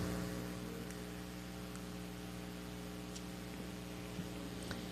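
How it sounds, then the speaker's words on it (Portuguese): An electric fan runs with a steady low hum and faint hiss, constant and unchanging, with occasional tiny ticks and no voices. "Concorrer com o barulho do ventilador é sempre um problema."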